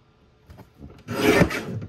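A paper trimmer blade slices through brown cardstock in one short, close rasping stroke that follows a few faint scrapes, with no voices.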